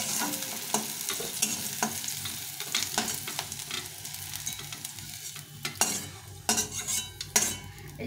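Fried bitter gourd is lifted out of hot oil in a pan, with a continuous close sizzle and frequent metal utensil clinks and scrapes.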